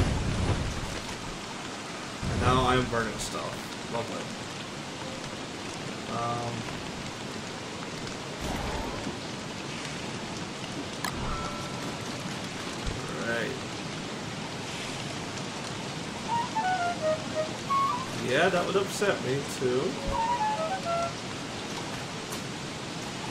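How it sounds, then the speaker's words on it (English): Steady hiss of rain falling in the survival game Don't Starve, a broadband wash that runs the whole time beneath someone talking and occasional in-game sound effects. "Man, this rain sucks."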